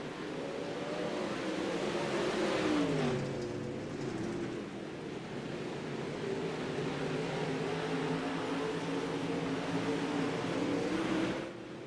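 Late model race cars run laps at Cedar Lake dirt track, a steady loud engine roar with shifting pitch as the pack passes, no talk over it.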